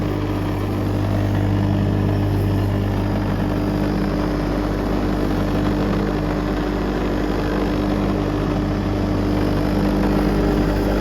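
A Kärcher pressure washer runs unprimed and draws air through its suction hose, giving a steady, close, loud engine-like hum with a low rumble that holds evenly throughout with no talk.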